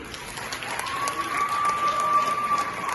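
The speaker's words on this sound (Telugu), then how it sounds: "మిగిలిన వాలంటీర్స్ అందరికీ ఒక బిగ్ అప్లాజ్ ప్లీజ్" An event audience applauding the team and volunteers, a steady wash of many hands clapping at moderate distance, with a faint tone sustained underneath.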